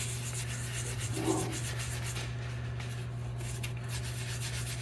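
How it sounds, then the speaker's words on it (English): A brush scrubs a hat brim in small circles, making a soft continuous rubbing and scratching sound over a low steady hum, close by and without speech. "I'm going to start on the brim like I always do. Just little circles. Trying to hit that dirt, grease, and grime from every direction."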